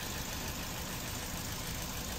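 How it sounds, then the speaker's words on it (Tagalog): An engine idling steadily with a dense, even rumble and no change in pitch, close and continuous with no voices. "Saka yung engine niya,"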